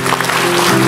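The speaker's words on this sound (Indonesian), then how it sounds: "Mari kita tepuk tangan sekali lagi seolah-olah hari sudah siang." A church congregation claps together during a sermon, a brief burst of dense clapping mixed with a sustained musical tone underneath.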